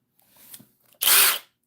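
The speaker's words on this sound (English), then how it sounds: "It makes quick work of drilling holes and stuff, too, with that impact." A 24-volt McCulloch XTR impact drill fires in one loud, close burst of about half a second. Faint handling noises come before it, and no one speaks.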